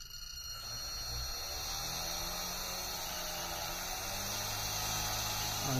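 An electric motor on a test bench spins slowly, giving a steady, even whir with a constant high whine that holds at the same level throughout, close and alone with no voices.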